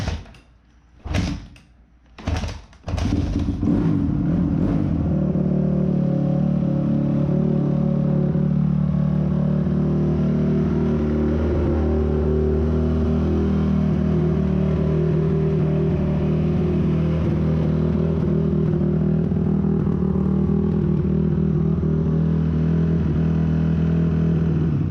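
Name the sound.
Honda CRF250 dirt bike engine starting and revving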